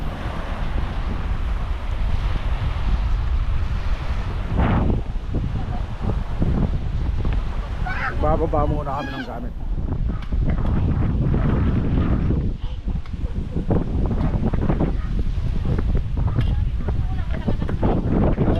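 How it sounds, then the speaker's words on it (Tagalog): Strong evening wind buffets the microphone on Borawan Island in Padre Burgos, Quezon, a loud, constant rushing with waves in the background, while people talk over it. "Sobrang lakas ng hangin."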